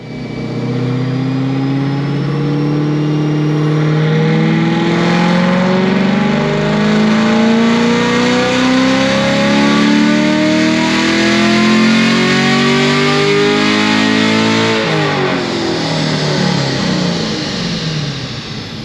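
A 2021 Camaro with upgraded heads, cam and intake revs on a dyno, the engine note climbing steadily in pitch over many seconds to a loud peak before dropping off sharply, with no voices.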